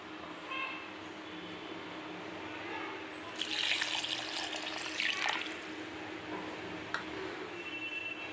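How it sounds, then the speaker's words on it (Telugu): Water is poured onto grated coconut in a kitchen, a short faint splashing pour in the middle over a low steady background hum. "ఈ మిగిలిన వాటికి నీళ్ళు అనేది యాడ్ చేస్తున్నాను"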